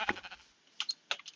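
Sheep bleat in the Minecraft video game, a few short nasal calls rising and falling between quiet gaps, close and moderately loud.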